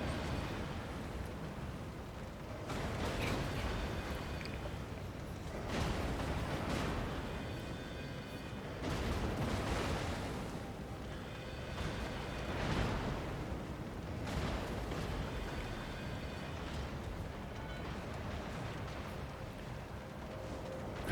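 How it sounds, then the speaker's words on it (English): Gun volleys from the battleship Jean Bart in a naval video game, several heavy booming salvos spaced a few seconds apart over constant rumbling background noise. "Just trying to get off the last couple of volleys here."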